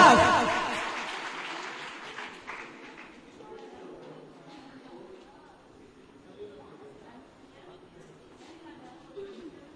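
An audience at a school speech competition applauds to welcome a speaker, with loud clapping at the start that fades within a couple of seconds into quiet room murmur.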